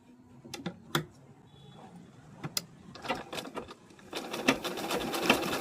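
A picot sewing machine stitching the fall along a saree edge, quiet rapid mechanical clatter in short bursts, then a steadier, denser run of stitching toward the end, close and without speech.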